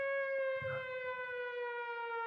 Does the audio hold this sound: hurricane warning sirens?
yes